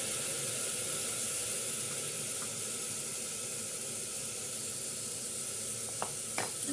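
Chicken polao masala with garlic paste and a splash of water is sautéed on high flame, sending out a steady close sizzle and hiss broken by a few sharp spoon taps near the end.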